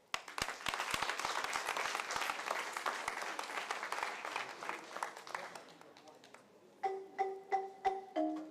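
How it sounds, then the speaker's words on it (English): Audience at a district well-done function giving a round of applause for the executive mayor, a dense burst of clapping that thins out and fades, followed by a few isolated rhythmic claps near the end. "One more round of applause, ladies and gentlemen, for our executive mayor"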